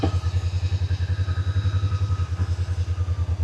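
A ranch vehicle's engine runs in high gear, a close, steady, throbbing chug with rapid even pulses and some mechanical clatter, with no talk.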